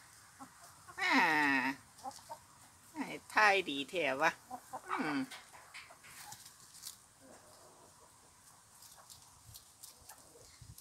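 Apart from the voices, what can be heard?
black chickens clucking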